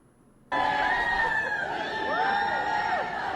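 Concert crowd at a show in London chanting, a loud mass of voices that bursts in suddenly and carries on with rising and falling shouted calls.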